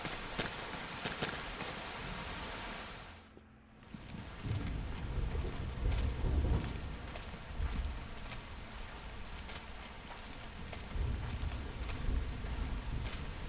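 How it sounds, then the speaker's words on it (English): Steady rain hisses throughout in the video game Xenoblade Chronicles X, with a brief drop-out partway and low rumbling patter underneath; no talking. "The rain's starting to let up, just in time for sunrise."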